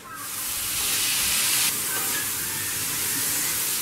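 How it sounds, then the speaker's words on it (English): Chopped tomatoes hit hot roasted masala for a Kerala chicken curry, setting off a loud, steady, hissing sizzle that rises quickly and carries on evenly, with no talking. "Once the masala is lightly roasted, add in the chopped tomatoes."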